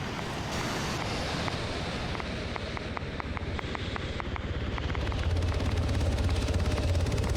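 Attack helicopter touching down on a coast in the video game Arma 3, a steady rotor roar with surf-like wash and wind, loud and continuous throughout.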